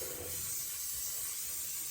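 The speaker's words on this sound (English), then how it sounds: "So I'm gonna spray it" A short, soft hiss of oil spray onto salmon in an air fryer runs continuously for a couple of seconds, faint and close, with no voices.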